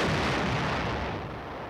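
Artillery fires during the Korean War, a single heavy, booming blast that rolls out and slowly fades, loud and alone with no voices.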